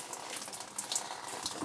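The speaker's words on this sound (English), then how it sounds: "We got the sink open over there" Water runs steadily from an open sink faucet, a constant close splashing stream with no voices.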